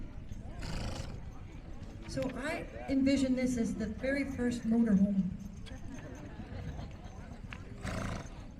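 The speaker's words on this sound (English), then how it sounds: "These beautiful horses and wagon" Horses pulling a covered wagon neigh and their hooves clip-clop at a steady walk while someone talks over them outdoors at an agricultural show.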